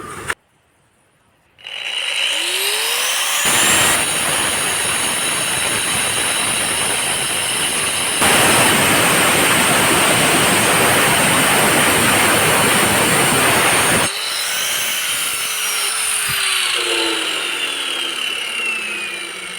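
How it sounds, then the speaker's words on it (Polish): An angle grinder powered by an EcoFlow River 2 Pro power station roars continuously and harshly as it cuts through stone, loud and close, after a brief quiet start, holding steady for most of the recording. "Podczas cięcia kamienia nie odczułem na tej szlifierce jakiegoś spadku mocy."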